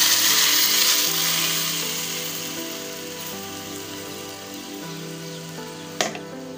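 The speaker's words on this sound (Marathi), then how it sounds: "लसूण सोनेरी कलरचा झाल्यानंतर व मिरचीचे तुकडे परतल्यानंतर त्यामध्ये आपण मिक्सरला फिरवलेले हे दही त्यामध्ये घालूया" Blended yogurt for kadhi sizzling in hot oil with golden garlic and chili pieces, a loud, steady hiss that slowly settles and fades, with a sharp clink near the end.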